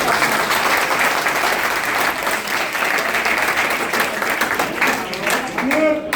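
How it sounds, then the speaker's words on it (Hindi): Loud, dense applause from an audience at a public speech in Maner, Patna, sustained throughout and filling the space, with a voice starting to speak again near the end. "इसके लिए हम सभी मनेरवासी एक बार जोरदार तालियां"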